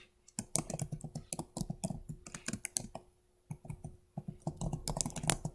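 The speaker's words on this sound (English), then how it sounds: "Here, I'm just going to type" Fingers tap rapidly on a computer keyboard in close, crisp bursts of keystrokes separated by brief pauses, the clicks quiet and uneven in rhythm with no talking.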